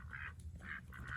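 Male ducks in a newly added backyard flock give a short run of raspy quacks, three bursts in quick succession, close and clear with a low background rumble.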